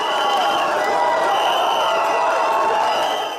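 A dense crowd at the RHDP party headquarters in Côte d'Ivoire roars in victory celebration, sustained and loud throughout, with shouting, singing and chanting voices blended into one continuous wash of cheering.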